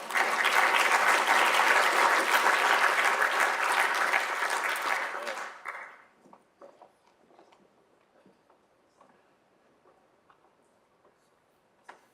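An audience at a transparency summit applauds to welcome a freedom of information panel, with loud, dense clapping for about five seconds before it fades quickly to near silence and a few faint scattered sounds.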